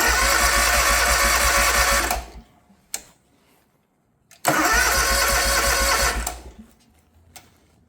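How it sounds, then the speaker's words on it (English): A Hustler Surfer Pro riding mower engine cranks and fires, running loud and close for about two seconds, falling quiet with a single sharp tick, then cranking and catching again for a second loud burst before dying down. "The moment you engage this parking brake, it starts, or it cranks."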